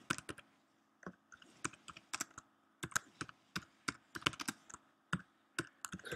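A caption is typed on a computer keyboard, a close, irregular run of crisp key clicks with short pauses between bursts.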